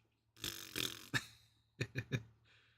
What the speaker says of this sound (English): There's the Eopie, good old fart noise.